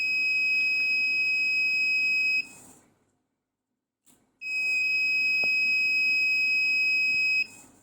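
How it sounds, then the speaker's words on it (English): Buzzer of a flame sensor alarm sounding as a steady two-tone electronic beep, loud and close, in two long bursts separated by a pause of near silence. "when the sensor detect the flame, the yellow and the red LED will light, will turn on, and the buzzer will make a sound"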